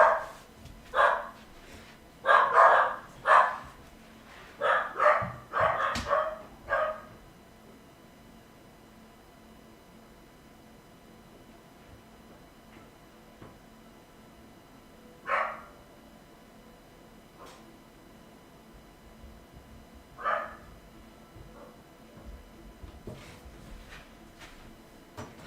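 Household dogs bark in several sharp bursts near the start, then fall quiet, with a few isolated barks later, somewhat muffled as if from another room.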